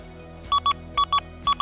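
An XP Deus II metal detector sounds its target tone as a target is moved away from the coil: six short, loud, clean high beeps in pairs, evenly spaced, over a faint steady electronic hum, with no talking.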